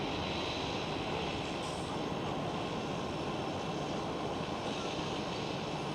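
Airliner engines at Amsterdam Schiphol airport, a steady broadband roar at moderate distance that holds evenly throughout, with no voices over it.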